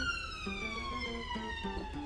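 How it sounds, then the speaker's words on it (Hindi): Ambulance and police car sirens wail past at a distance, their rising and falling tones sliding steadily downward as they go by, faint behind a quiet room. "ये एम्बुलेंस पुलिस की गाड़ियाँ गुजरती रहती हैं"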